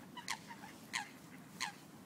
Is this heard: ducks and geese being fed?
yes